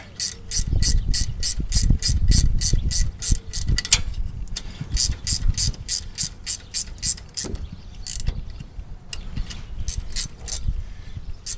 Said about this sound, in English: These ratcheting wrenches really help.